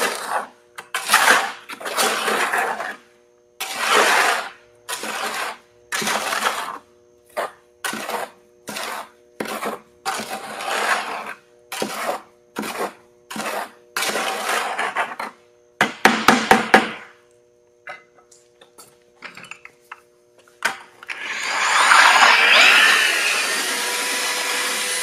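Concrete countertop mix being stirred in a bucket with a power mixer comes in repeated short whirring bursts with scraping and knocking between, ending in a longer rough grinding run, close and loud.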